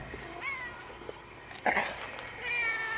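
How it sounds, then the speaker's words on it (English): A cat meows several times, with short harmonic cries and one louder yowl partway through, against a quiet room background. "Meow, of course."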